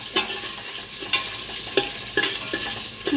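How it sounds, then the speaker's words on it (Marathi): Garlic frying in a pan for dal gives a steady close sizzle, with light stirring scrapes at regular intervals and no talk. "इथे मी लसूण टाकलेलं आहे."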